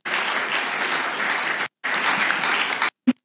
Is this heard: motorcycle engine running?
no